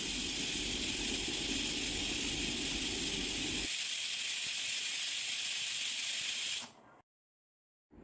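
A pressure cooker holding tapioca and bone pieces vents steam in a loud, continuous hiss that thins partway through, then cuts off abruptly into silence near the end.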